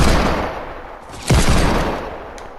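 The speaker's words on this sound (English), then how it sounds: "I don't know what's up with my Deagle shots today" Desert Eagle pistol fire in a shooter game: a single sharp, loud report cracks out midway over steady background game noise, then decays away.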